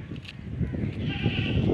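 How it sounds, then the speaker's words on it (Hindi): A goat bleats outdoors in a rural yard, its wavering cries rising in short bursts over steady background noise, close by and moderately loud. "बकरी रो रही है"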